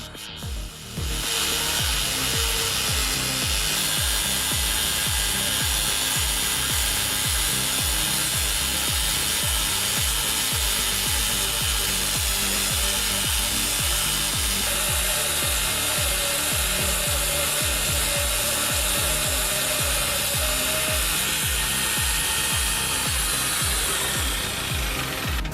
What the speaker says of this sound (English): This band's sawmill breaks all the rules. Motorcycle wheels drive the blade with surprising stability